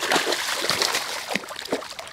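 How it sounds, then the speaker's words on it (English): A small, hard-fighting two-pound bowfin thrashes at the surface of a Missouri lake while being landed, throwing out a quick run of close, sharp splashes and sloshes. "he's splashing me. He got me just completely soaking wet. He is not giving up."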